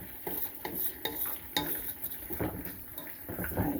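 Beans frying in a pan, with a soft steady sizzle under repeated clinks and scrapes of a utensil stirring against the pan, close and moderately quiet with no talking.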